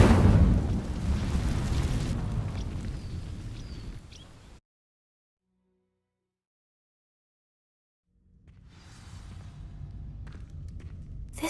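Incendio fire spell igniting dry vines in Hogwarts Legacy: a loud roaring whoosh of flame with rumbling bursts that fades away, followed by silence and then a quieter low ambient rumble.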